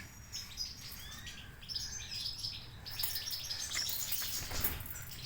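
Goldfinch chicks in a nest at an aviary, several high thin chirps and tweets overlapping in quick bursts, close and fairly faint over a low background hiss.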